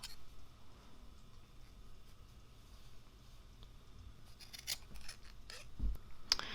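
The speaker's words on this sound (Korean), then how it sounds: "자연스럽게 거기에 맞춰서 잘라주세요" Scissors cut through fabric while a DIY filter mask is made, a run of soft snipping and rubbing blade strokes, close and fairly quiet, with a few sharper snips toward the end and no talking.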